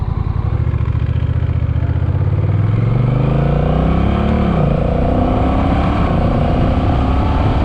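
A Honda CMX 1100 Rebel motorcycle with an automatic dual clutch transmission accelerates hard. The engine note climbs steadily, eases off briefly, then holds a loud, close, continuous drone under wind rush.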